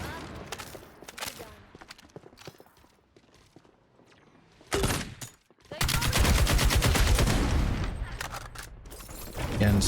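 Gunfire in the FragPunk shooter game, scattered shots early giving way to a loud, sustained stretch of rapid continuous firing in the second half, mixed with footsteps and game effects.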